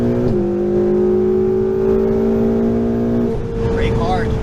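A Ferrari 488 GTB engine revs up after an upshift, a loud steady rising drone with a brief dip at the shift and another change near the end, with engine noise filling the cabin.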